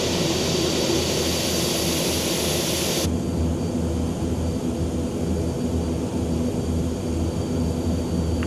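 King Air turboprop engines roaring at full power on the runway during a simulated takeoff, a loud continuous drone with propeller buzz that softens slightly in its upper hiss partway through.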